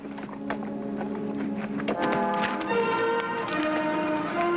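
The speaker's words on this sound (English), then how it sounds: "The outlaw's horse." Rhythmic hoofbeats of a horse trot along with a tonal, harmonic background, steady and moderately loud throughout, in a 1957 western TV show.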